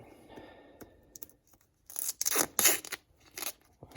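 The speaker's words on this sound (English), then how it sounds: "Just so this doesn't pull apart on me, I'm going to tape it" Black duct tape pulled and torn outdoors, then wrapped around an electrical plug, a few quiet rustles followed by several loud, close ripping bursts of tape peeling off the roll.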